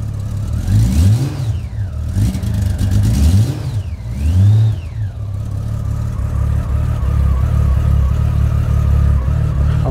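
A 2000 Honda GL1500 motorcycle engine just after a cold start, loud and close, idling low and throaty and revved in several swelling bursts before settling back to a steady rumble.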